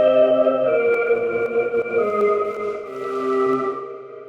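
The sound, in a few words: synthesizer pad with cosmic reverb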